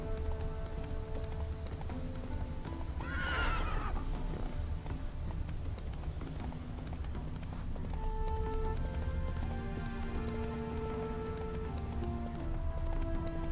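A horse in the video game The Witcher 3 gives a sharp neigh early on amid hoof clops and steady rain on a road, with the whinny standing out briefly against the ongoing ambience.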